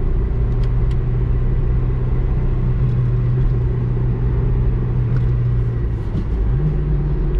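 A 1992 Citroen ZX's engine drones steadily at full throttle on the highway, a deep, constant rumble with road noise inside the cabin, pitch briefly shifting near the end; no talking.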